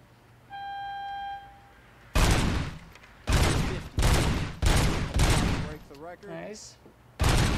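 Gunfire in the video game RoboCop: Rogue City comes as several loud, bursty volleys separated by short gaps, after a steady electronic tone at the start, with people talking in between.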